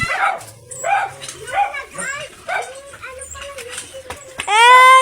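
Several dogs bark and yip excitedly in short bursts, welcoming people home, ending with a loud high whine, with people talking in the background.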